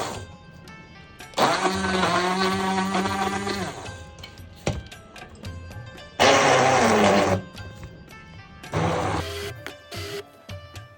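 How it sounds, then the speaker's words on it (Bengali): An electric blender grinds minced meat for kofta in three loud bursts of a few seconds each, its motor rising and falling in pitch, with quieter pauses and clatter between runs. "কিমাটাকে আমি সুন্দর করে ব্লেন্ড করে নিব।"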